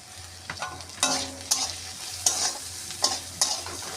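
Green chillies and spices are stirred in a hot pan with oil, a spatula scraping and clacking in uneven close strokes over a steady faint sizzle.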